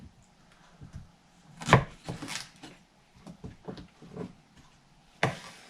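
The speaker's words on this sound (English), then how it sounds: "I think I'm gonna also add some cucumbers. Cut them into little strips." Several sharp knife chops cutting cucumber into strips on a cutting board, a loud strike at the start and another near the end, with quieter taps and rustling between.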